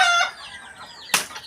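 A hen gives a short, rising cackle up close after laying an egg, followed by a quieter pause and a brief rustle.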